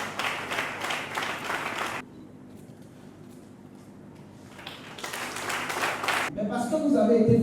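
Applause rings out at a graduation ceremony of a Bible institute as graduates are called. Loud, dense clapping comes in two bursts, separated by a quieter pause with room sound and a voice.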